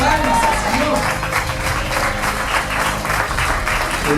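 Clapping from a church congregation during an evangelical sermon, steady and dense across the whole stretch, with a faint voice and some music-like tones underneath.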